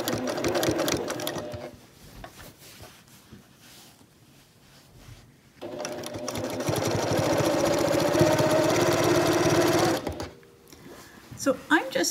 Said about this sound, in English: So I'm just stitching this with a straight stitch